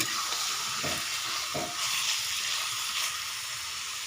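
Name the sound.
stirring chicken curry with potatoes in pan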